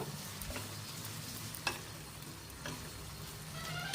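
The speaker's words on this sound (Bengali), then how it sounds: "আলু রসুনের কোয়াটা দিয়ে আবারও নাড়াচাড়া করে কষিয়ে নেব।" Mutton curry with fried potatoes and garlic cloves is stir-fried in a pot, a quiet continuous sizzle marked by a few light spoon taps and scrapes at an even pace.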